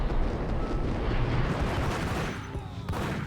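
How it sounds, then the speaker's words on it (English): A grenade blast in Max Payne, heard as a dense, rumbling explosion with a rolling low-end wash that fades out, followed by a sharp crack near the end. "That's a grenade."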